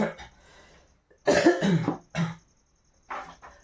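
A man with a scratchy throat that has troubled him for about a year coughs in several close, harsh bursts separated by short pauses, with no talk over them.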